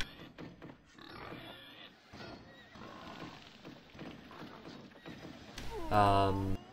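Horses neighing and clip-clopping in the Knights and Merchants medieval strategy game, several short calls and hoof sounds over a busy game soundscape with a louder burst near the end, while someone talks throughout.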